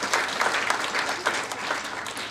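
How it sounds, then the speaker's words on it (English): Audience applause welcoming a woman guest lecturer at a special lecture, a steady dense patter of many hands at moderate volume lasting the full couple of seconds with no voices over it. "Let us all welcome ma'am with a huge round of applause"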